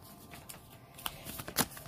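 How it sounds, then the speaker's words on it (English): A deck of oracle cards being cut and shuffled by hand, giving soft close riffles and a sharper snap of cards near the end, with no talk. "I will cut the deck."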